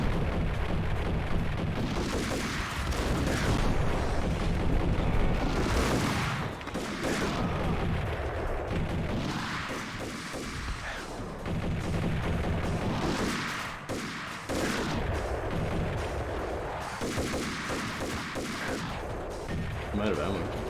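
Gunfire and explosions from the Max Payne video game: a dense, loud barrage of shots and booming blasts that goes on without a break, with brief lulls between heavy bursts.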